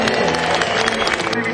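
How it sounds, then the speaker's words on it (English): Crowd at a Save Barton Farm campaign rally gives a round of applause, dense clapping mixed with crowd noise, loud and continuous through the short burst. "Give yourselves a round of applause."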